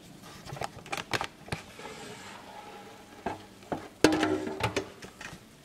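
An air fryer basket of chicken tikka, cooked 15 minutes at 400 degrees Fahrenheit, is opened and handled, giving a series of close clicks, clatters and scrapes, then a louder metallic clunk with a brief ringing tone and quieter rattles. Background sizzling runs underneath.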